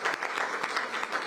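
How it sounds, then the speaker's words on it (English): An audience applauds staff at an outdoor art exhibit unveiling along Connecticut Avenue: a steady patter of many hands clapping, fairly quiet and even, with no voices over it. "Let's give them a round of applause for their work."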